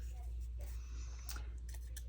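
Scissors snip through paper to cut out pieces for a craft page, giving a few soft, close crisp cuts over a low steady hum, with quiet rustling between snips.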